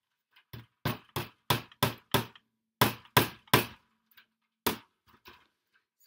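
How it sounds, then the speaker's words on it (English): Hammer blows on the wooden frame of an up-cycled cork message board, about a dozen sharp close knocks in irregular bursts, ringing briefly and then falling quiet between strikes. "I am hammering on the same part that I have my camera"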